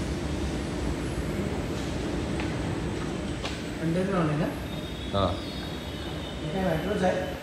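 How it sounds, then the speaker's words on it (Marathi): An underground Mumbai Aqua Line metro train gives off a steady, close rumble with a faint squeal of wheels, while voices talk over the noise. "मेट्रोच आहे."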